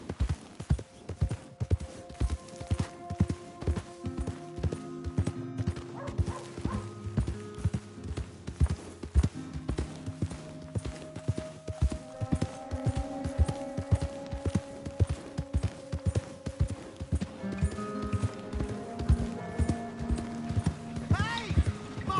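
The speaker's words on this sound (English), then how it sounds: "Hey! My horse!" Horse hooves clip-clop at a steady walking rhythm in Red Dead Redemption 2, close and clear throughout, with tack jingling faintly, background music, and someone talking over the hoofbeats.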